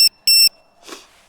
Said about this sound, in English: when I plug it in, it'll beep initially